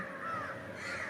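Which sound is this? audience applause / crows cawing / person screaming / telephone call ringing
crows cawing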